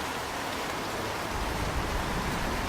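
Steady rain sweeping across a valley and the houses below, a soft, even hiss that continues without break from start to end, with no voices.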